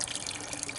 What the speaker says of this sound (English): I'll let this drain out